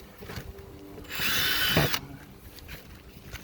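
A single short burst of a power drill whirring through a plastic tub, about a second long, loud and close, with quiet background before and after.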